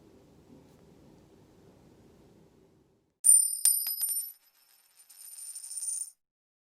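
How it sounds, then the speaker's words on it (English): Coins dropping onto a hard surface: a bright cluster of metallic clinks and rings that lingers and then fades, followed by a softer rattling jingle. A faint rustle comes before it, and no one speaks. "It's coins dropping."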